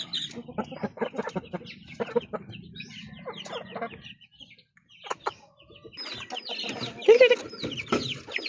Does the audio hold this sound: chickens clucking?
yes